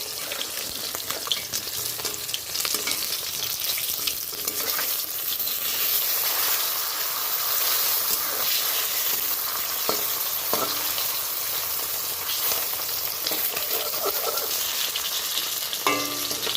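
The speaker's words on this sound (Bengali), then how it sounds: "আমি এবার মাছগুলো একটা থালায় তুলে নেব ভাজা হয়ে গিয়েছে" Rohu fish pieces fry in hot oil for a Bengali-style fish curry, with a steady dense sizzle and occasional stirring scrapes throughout, close and continuous with no voices.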